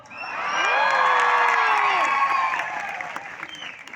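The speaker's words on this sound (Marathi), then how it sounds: "सगळ्यात जास्त टाळ्या तुम्हाला इथं वाजवाव्याशी वाटल्या" An audience at a Marathi poetry performance by Sankarshan Karhade breaks into loud, sustained clapping mixed with cheering and whoops, swelling quickly and then slowly tapering off.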